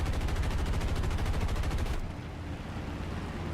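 Rapid sustained machine-gun fire from a B-25J-30 Mitchell bomber in War Thunder, loud, close and evenly rhythmic for about two seconds, then cutting to a steady engine drone.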